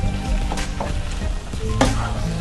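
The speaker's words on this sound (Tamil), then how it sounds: "ஸ்ப்ரிங் ஆனியன் போட்டு அதையும் போட்டு கொஞ்சம் மிக்ஸ் பண்ணி விட்டுக்கலாம்" Chicken lollipop coating frying in a pan as spring onions are stirred in, giving a steady close sizzle with a few brief scraping stir strokes.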